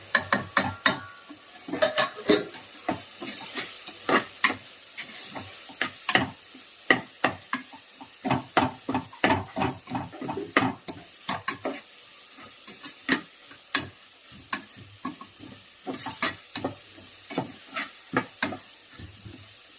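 Chili powder and coriander powder sizzle in a hot pan for a goat head meat curry while a spoon scrapes and stirs in quick, uneven strokes, steady and close for the whole stretch.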